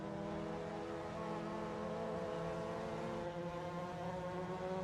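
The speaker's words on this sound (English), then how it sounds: "that engine you hear behind is actually going to be of Brett Anderson" A Mazda MX-5 race car engine drones steadily in the iRacing sim racing game, a sustained buzzy tone heard alone with no talk.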